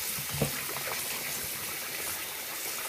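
Water streams steadily while tomatoes are rinsed in a kitchen, a close, constant splashing hiss with one brief knock near the start and no talking.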